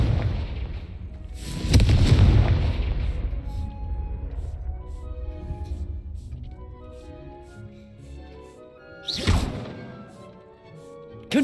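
Two Confringo fire-spell blasts in Hogwarts Legacy, a loud booming burst near the start that decays slowly and a second sharp explosion later, with the game's musical score and ambience underneath.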